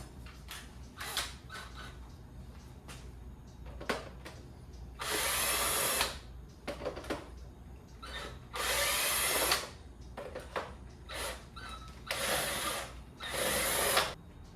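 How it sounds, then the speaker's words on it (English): A power drill backs self-tapping screws out of a Bissell Perfect Sweep Turbo carpet sweeper in four loud, whirring bursts of about a second each. Quieter clicks and handling knocks of plastic parts fill the gaps between them. "I'm going to go ahead and use a power drill"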